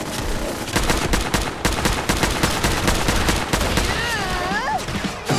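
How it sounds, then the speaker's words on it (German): Bursts of gunfire and explosive blasts from the video game Fallout 4 fill the whole stretch loudly and densely, with a warbling electronic tone near the end. "Das Ding explodiert."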